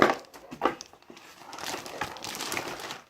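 A plastic bag crinkles and rustles up close as a Marvo KG922 mechanical keyboard is unboxed, with sharp crackles at first and then a steadier stretch of handling noise.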